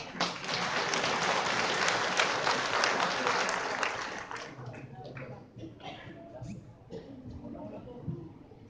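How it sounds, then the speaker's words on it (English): A graduation ceremony audience applauds, with dense, loud clapping for about four seconds. It then thins into scattered claps and thuds under a voice. "let us all welcome and give a round of applause"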